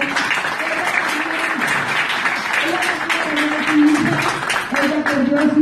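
Audience applause at a university conference on missing persons and trafficking in Tlalnepantla, State of Mexico, steady clapping running under a voice speaking over the crowd.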